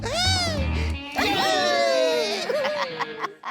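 A cartoon Puss in Boots cat lets out long, wavering meows, voiced in a drawn-out, whining way, with a music sting at the start and laughter-like tones mixed in.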